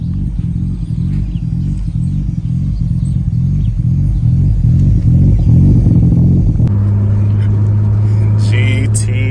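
Engine of a right-hand-drive Nissan Skyline R32 GTR rumbling loudly at idle, then a sharp shift into a steady, higher droning rev for the last few seconds, with a voice speaking over it.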